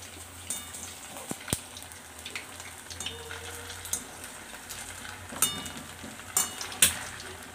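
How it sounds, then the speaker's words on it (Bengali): Sago pakoras fry in hot oil, a low steady sizzle broken by scattered crackles, pops and sharp clicks, close and fairly quiet, with no talking. "বড়াগুলো সব উল্টি পাল্টি ভেজে নিব।"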